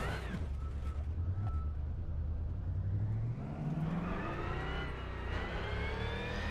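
A race car engine in the rFactor 2 simulator on the Ring Knutstorp circuit drones close and loud, dipping briefly as the driver loses the car, then revving steadily higher in pitch as it accelerates again.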